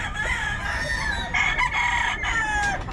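Gamecock roosters at Bocaue market crow repeatedly, with several overlapping calls close by over a busy background murmur.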